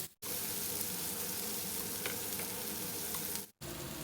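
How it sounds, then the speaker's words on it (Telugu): Chopped onions with cumin and curry leaves fry in hot oil, giving a loud, steady close sizzle that holds throughout, briefly cut off at the start and near the end. "ఇప్పుడు సన్నగా తరిగిన ఈ ఆనియన్స్ కూడా వేసేసి అలాగే కరివేపాకు కూడా వేసుకుందాము."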